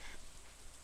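Steady rain in the farming game Stardew Valley falls as a faint, even hiss that runs continuously with no voices or other sounds.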